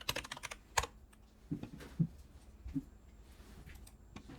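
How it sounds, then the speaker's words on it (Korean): A computer keyboard is typed on at close range, producing irregular bursts of quick, crisp key clicks with short pauses between them, fairly quiet and with no talking. "이 창에서 터미널에 npm run dev를 써보도록 하겠습니다"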